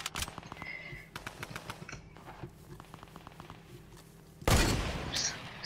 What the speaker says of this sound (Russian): Они с кем-то стреляются.